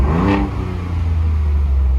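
A Ford Bronco 2.7 liter engine with its exhaust valve open gives a sharp rev that rises and falls, then settles into a deep, steady idle rumble, loud and close, with no voices.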